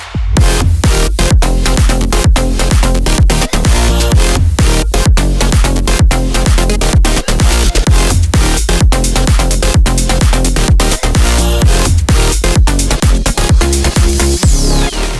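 A future house track plays loud and continuous, driven by a punchy four-on-the-floor kick and dense bass-heavy synths with steady rhythmic pulses throughout.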